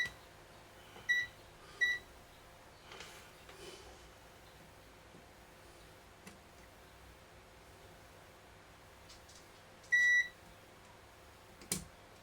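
A multimeter set to continuity beeps while probing transistors on a circuit board: two short, clear electronic beeps close together near the start, then one more after a long quiet stretch, over faint background hiss.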